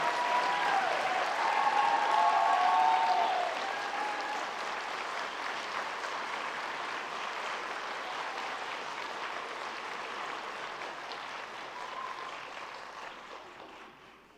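Applause rises from the crowd at a school board meeting to honour students, loudest at the start, then thinning and fading into a quieter patter that trails away toward the end.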